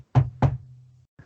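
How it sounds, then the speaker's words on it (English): Two sharp, close knocks on a door in quick succession, each leaving a short low thud that rings briefly before fading, followed by a faint trailing sound. "when you hear the knock on your door"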